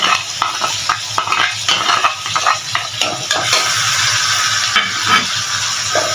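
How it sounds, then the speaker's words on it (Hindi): Grated potato is mixed into batter in a bowl with a spoon, producing a run of wet, squelchy stirring strokes and light utensil knocks against the bowl, close and continuous with no talking. "इसको अच्छे से मिक्स करेंगे"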